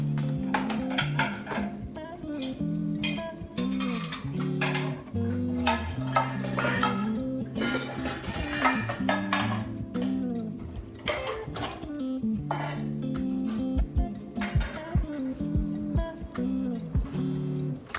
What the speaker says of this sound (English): I had all these dishes in the dishwasher.